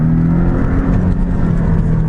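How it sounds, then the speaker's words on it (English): A deep, throaty Porsche 718 Boxster S engine rumbles steadily with a sporty exhaust burble from its sports exhaust, loud and close, no talking. "So I've got a sports exhaust, and I've got a sports exhaust on."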